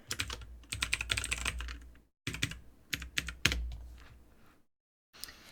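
Computer keyboard keys are pressed in quick clustered bursts for keyboard shortcuts, close and fairly quiet, with brief silent gaps between the runs of clicks.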